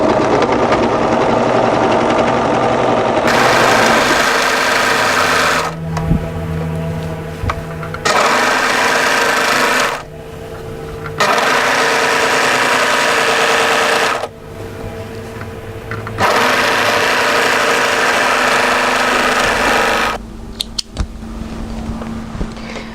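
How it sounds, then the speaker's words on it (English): An overlocker stitches around the hemline of a V-neck camisole in long, steady whirring bursts, stopping and restarting several times with short pauses between runs, close and loud. "overlock around the hemline"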